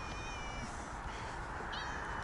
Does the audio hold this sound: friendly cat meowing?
yes